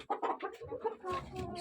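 Several hens cluck and murmur in a warmed backyard coop, short overlapping calls close by in an uneven rhythm, moderately quiet with no talk.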